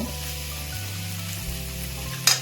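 Potato and cauliflower frying in a pan for a Bengali home-style curry, giving a steady close sizzle with a low hum throughout and one brief stir clatter near the end.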